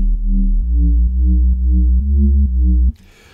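A speed garage synth bass from the Hurt Locker preset in Ableton Live, built on two triangle oscillators, plays a loud, clean, bouncing line of about six sustained notes before cutting off abruptly.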